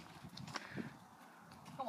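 Herd of cows crossing the Balderton level crossing, hooves clopping faintly and irregularly on the crossing surface amid quiet outdoor background noise.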